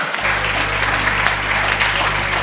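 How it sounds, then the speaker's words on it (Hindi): An audience at a Hindi comic poetry recital breaks into dense, loud applause that stays steady from start to end, with many hands clapping close together. "ताली बजाओ भाई साहब।"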